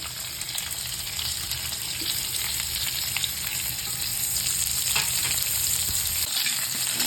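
Stuffed bitter gourd and curry leaves sizzle steadily in hot oil with cumin and mustard seeds in a pan, a dense, continuous frying hiss with no talk.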